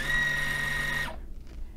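A Juki sewing machine's bobbin winder whirs with a steady, even mechanical hum close by, running for about a second before cutting off abruptly into quiet.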